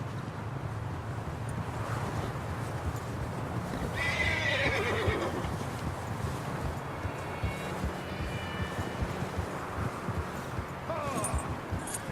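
Horse whinnying and hooves clip-clopping in the Western video game Red Dead Redemption 2, a loud neigh standing out over a steady wind-like ambience while someone speaks briefly.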